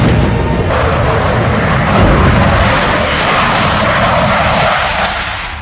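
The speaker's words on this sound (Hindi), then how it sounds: "राफेल लड़ाकू विमान परमाणु हथियार ले जाने में सक्षम है" A Rafale fighter jet roars loud and close, a broad, steady engine rumble with a deep low-end thunder that swells slightly midway, then begins to fade at the end; no talk.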